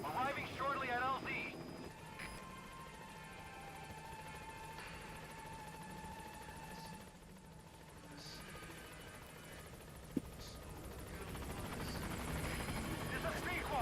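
Helicopter from the video game Metal Gear Solid V approaching a landing zone, a faint rotor and engine drone sitting low under radio-style voices, fairly quiet and steady with small swells.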